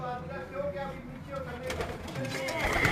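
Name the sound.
racing pigeons cooing in their loft compartments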